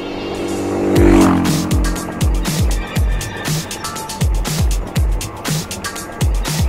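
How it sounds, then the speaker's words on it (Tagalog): Several motorcycles pass one after another on a muddy rural road near Nagsipit Falls in Casiguran, Sorsogon, each engine rising and fading in quick succession, fairly close and loud. "Mga motor na sumasalit."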